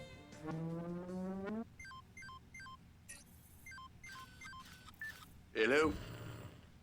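Phone dialing tones in the Watch Dogs 2 video game: a run of short, clear keypad beeps in quick succession, followed by a brief ringing burst near the end, fairly quiet over low game background.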